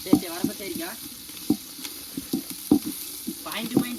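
Meat for karri varuval frying in a pan, a steady sizzle punctuated by repeated close scraping and stirring knocks, with faint background voices.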